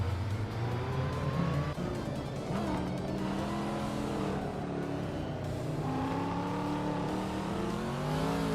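A 1985 Ferrari 288 GTO races in a video game, its engine revving and climbing through gears in steady pitch sweeps, with tire squeal and other cars close by, loud and continuous without talk.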